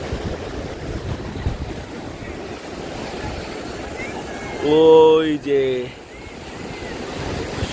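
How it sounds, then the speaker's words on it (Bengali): Big ocean waves surge and break on the shore in a steady, close roar, with wind buffeting the microphone and a voice calling out briefly midway. "বড় বড় ঢেউগুলো আসতে ভিজিয়ে দিয়ে চলে যাচ্ছে"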